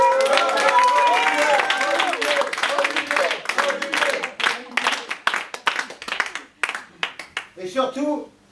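Loud audience applause at a French stage performance, a full crowd clapping steadily, then tapering off into sparse individual claps as voices begin to come through.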